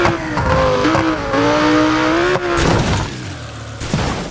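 A Lamborghini in the BeamNG.Drive driving game gives a loud, rising engine whine, then a sudden crunching impact, followed by rougher tire and engine noise.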